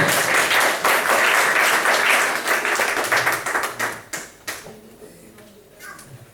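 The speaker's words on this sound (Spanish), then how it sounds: "Denle un aplauso al Señor" Church congregation clapping in praise, a loud dense burst of many hands that thins out and fades over the last couple of seconds, with a few scattered claps trailing off.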